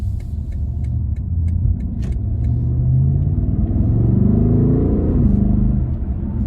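A 2020 BMW M850i twin-turbo V8 drives in comfort mode, heard from inside as a loud, deep rumble that builds through rising revs before settling, with light clicks early on and no talking.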